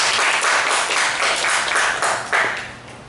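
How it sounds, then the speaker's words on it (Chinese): Students in a classroom break into applause, a dense, steady patter of many hands clapping together for about three seconds before fading slightly, with no speech over it. "来，掌声鼓励"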